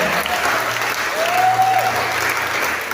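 Congregation at a French-language church session applauds Jesus Christ, sustained crowd clapping that fills the room evenly, with a faint voice or whistle-like tone rising over it.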